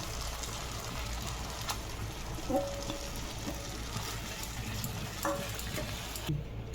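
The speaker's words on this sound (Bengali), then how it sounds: "কষিয়ে নিয়েছি, এবার সেদ্ধ ডালটাকে দিয়ে দিচ্ছি।" Boiled dal goes into a pan of sizzling tomato and spice mixture, giving a steady hissing fry with a few soft stirring clicks.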